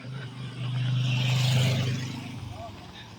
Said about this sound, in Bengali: তাও প্রচুর টু হুইলার যায়